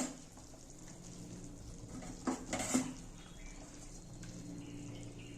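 Fish heads dropped into a pot of boiling Bengali-style fish-head curry with potatoes, a brief splash and clatter of pot and utensil midway over a faint, quiet background.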